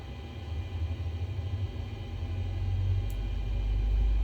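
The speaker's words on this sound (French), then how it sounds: "Je démarre le moteur droit." A Boeing 737 right engine spooling up in a flight simulator game, a low rumble steadily building in loudness over a few seconds, alone without talk.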